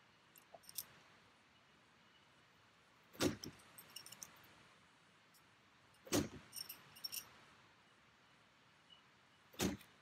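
Three sharp overhand shuriken throws, each ending in a crisp metallic thunk as the blade strikes the target, spaced about three seconds apart over a quiet room background.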